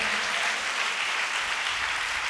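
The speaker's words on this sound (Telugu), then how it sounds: "గట్టిగా చప్పట్లు" A church congregation claps loudly, a dense, steady burst of applause filling the whole short moment with no voices over it.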